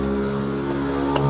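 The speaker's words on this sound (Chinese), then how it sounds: "随随便便踩油门就去了" A 2023 Toyota Hilux GR Sport with its 2.8L diesel accelerates in Eco Mode on a Malaysian test drive, giving a steady low engine drone with a faint rising tone, heard from inside the cab with no talk.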